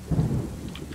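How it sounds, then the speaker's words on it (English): Thunder rumbling in a horror video game, a low, heavy roll filling the short moment with a rain-like wash over it and no talking. "Shut up, thunder."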